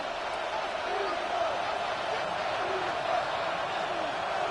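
A football stadium crowd roars steadily on a third down, a dense, far-off wash of cheering that holds at an even level throughout, with no single voice standing out.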